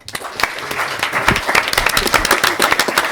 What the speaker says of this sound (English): Can you have a round of applause for the best men